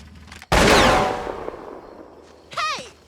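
A single loud, close gunshot cracks out and rings into a long echoing decay in a tense scene, followed about two seconds later by a brief voice.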